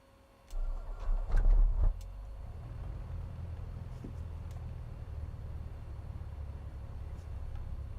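In Microsoft Flight Simulator 2024, an aircraft engine starter cranks with a short rough whirring burst, then settles into a low, steady engine drone.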